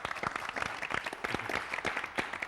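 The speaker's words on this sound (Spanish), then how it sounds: "Vamos a darle un aplauso, por favor," Studio audience on a Mexican morning television program applauds steadily, a dense patter of many hands clapping indoors with no voices over it.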